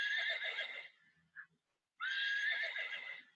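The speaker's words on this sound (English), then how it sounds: "You hear the horse?" A horse on a farm whinnies loudly and clearly in two long, shaky neighs separated by a short pause, with no other sound around them.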